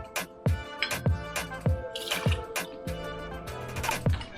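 Patrón Blanco tequila glugs from the bottle for a margarita, a close, rhythmic pour with regular gurgling drips.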